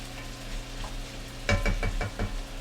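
Vegetables for a black truffle and artichoke soup are stirred in a pot, soft sizzling under a low hum, then a short burst of four or five scraping strokes.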